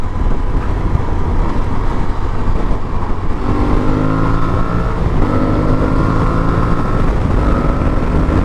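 An Aprilia Tuareg 660 adventure motorcycle engine revs loudly and accelerates through the gears on an open road, a close, rising twin-cylinder growl with strong wind rush throughout.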